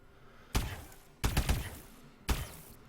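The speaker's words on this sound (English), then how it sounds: "a rifle that shoots energy, and so it doesn't have to reload." Energy rifle fire in Call of Duty: Advanced Warfare, three separate punchy bursts, each a sharp hit with a short rattling tail, spaced about a second apart against a quiet background.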